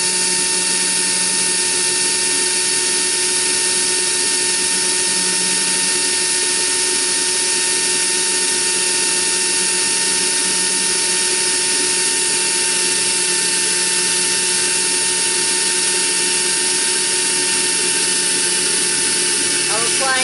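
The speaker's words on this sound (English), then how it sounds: "Once you get into the ceramic, it'll go easier. You can let up. The glaze is a little tough to get through though." A power drill grinds steadily through the glaze of a ceramic china plate, a loud continuous high whine with a constant pitch that holds unbroken to the end.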